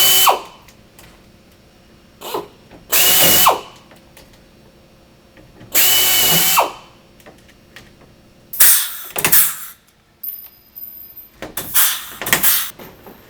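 A power drill with a 13/64 bit bores rivet holes through a portable toilet unit's roof and jamb, several separate loud bursts of a few seconds each, close by, with thuds and clatter between them.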